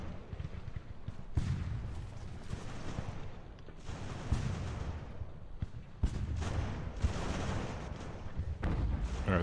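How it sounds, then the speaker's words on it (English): Mortar shells land in Ultimate General: American Revolution, a string of dull booming impacts and rumbling blasts spread out every few seconds over constant battlefield noise. "I see the mortar shells coming in."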